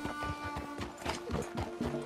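Horse hooves clip-clop at a steady trot in Red Dead Redemption 2, an even, rhythmic run of close thuds over soft background music.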